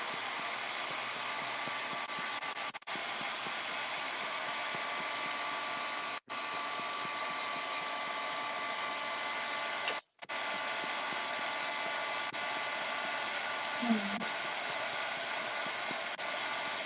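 Steady, loud whirring of a heat tool or dryer blowing over a scraped junk piece, continuous and close, with only a few brief cutoffs.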